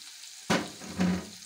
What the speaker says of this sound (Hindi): ये देखें, तड़का भी बघार भी लग गया, कढ़ी भी तैयार होगी।